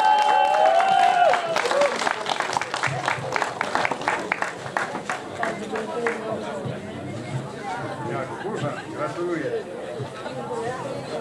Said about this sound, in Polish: Jeszcze raz brawa za nią